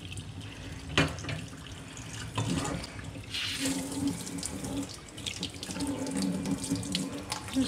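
Tap water runs steadily into a sink as a rabbit water bottle is rinsed out, a continuous splashing rush with small bumps of handling and no talking.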